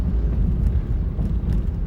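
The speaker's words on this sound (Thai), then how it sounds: "รถขยะ" A garbage truck passes, heard as a heavy, low engine rumble with road noise, steady and fairly close, at night in slow traffic.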